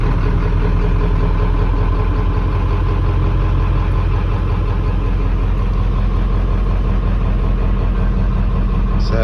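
The 1995 Ford 7.3 diesel engine with a newer starter turns over and runs as a loud, steady low rumble close by, continuous throughout with no talking.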